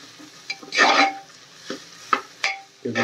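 Peas and spices with turmeric are stirred in a pan on low heat, producing several close scrapes and clinks of a utensil against the pan over a faint sizzle.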